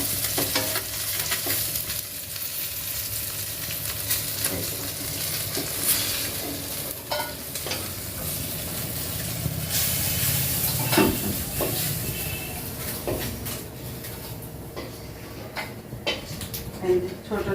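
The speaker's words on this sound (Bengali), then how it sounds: "মোটামুটি ভাজা হয়েই গেছে কই মাছগুলো" Small koi fish fry in a pan with a continuous loud sizzle and hiss, punctuated by occasional scraping stirs; a voice speaks intermittently over it.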